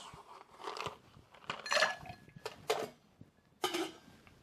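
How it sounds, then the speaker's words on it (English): Ice dropped into a cocktail mixing glass in a handful of separate crunchy clinks and rattles, close and moderately loud with short pauses between them, no talking. "Get a little ice in our stir glass."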